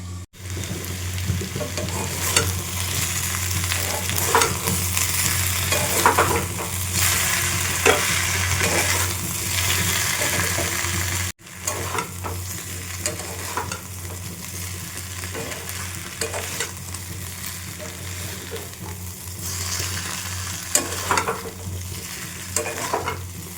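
Young jackfruit sautéed with vegetables and a little garlic in a pan, a continuous close sizzle with repeated spatula stirring and scraping, briefly cut off midway before resuming at a slightly quieter level.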